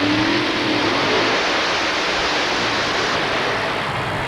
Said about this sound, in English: Roy Kirby, Fontana, California, getting ready to go. Lots of horsepower. It's supercharged.